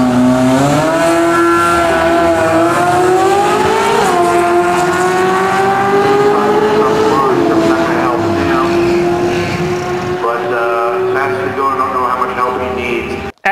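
A car engine fitted with 180-degree headers and a Y-pipe exhaust sounds loud and close, with a steady, smooth tonal note that climbs and eases as the revs rise and fall.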